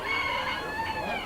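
A black Sumatra rooster crows at a county fair, one loud, drawn-out cock-a-doodle-doo heard up close and lasting the whole moment, with no one talking over it.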